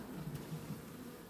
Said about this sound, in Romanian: Ia albina aici, bravo.